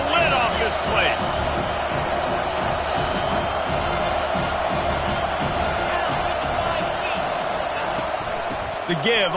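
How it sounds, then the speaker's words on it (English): A stadium crowd in the NCAA 25 college football game roars for a third-down play, a dense, sustained wall of cheering with a few sharp thumps, under continuous talk. "Third down, and this crowd is tearing the lid off this place."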